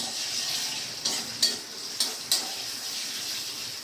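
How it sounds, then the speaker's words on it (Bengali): Onions frying in oil for a fish head dal sizzle steadily up close, broken by four sharp clinks of a utensil against the pan. "তো এখানে আমি পেঁয়াজটা ভেজে নিচ্ছি"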